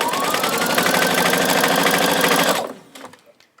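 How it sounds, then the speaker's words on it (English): A sewing machine runs loud and steady for a few seconds while back stitching the end of an invisible zipper seam, then stops abruptly, leaving brief faint handling sounds. "I'm just going to do a little back stitch and then I'm done."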